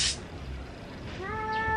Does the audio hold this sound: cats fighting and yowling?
yes